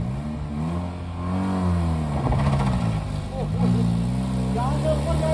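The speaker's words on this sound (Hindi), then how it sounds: "ये देखो, गाड़ी चेक करें, और पारुल की गाड़ी आते हुए" A Tata Nano car drives off-road, its small engine droning and revving steadily with rising and falling pitch, mixed with people talking throughout.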